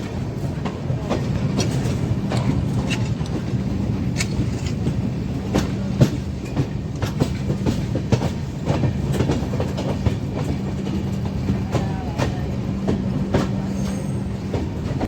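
Passenger express train rolling along rails between Morena and Dholpur in India, steady rumbling run with repeated wheel clicks over rail joints and a sustained low hum, heard from on board.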